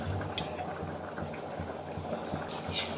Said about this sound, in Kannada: ಈಗ ಇದನ್ನ 1-2 ಮಿನಿಟ್ಸ್ ಈ ಥರ ಫ್ರೈ ಮಾಡ್ಕೊತೀನಿ